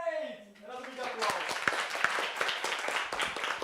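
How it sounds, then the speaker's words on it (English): Conference audience applause rises after a speaker's voice fades, a mix of scattered and then fuller clapping with some distinct sharp claps, continuing steadily to the end. "Another big applause."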